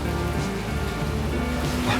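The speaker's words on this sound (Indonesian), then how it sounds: "Serius, hujan begini" Heavy rain falling steadily, a dense continuous wash of drops on a surface that stays loud and even throughout the short stretch, with no voices over it.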